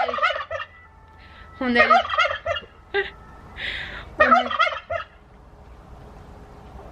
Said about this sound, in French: On est allé chercher les dindes blanches.